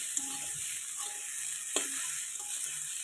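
Papaya curry with khar and salt sizzles steadily in a pan, with soft scraping strokes as it is stirred, close and fairly quiet, with no talking.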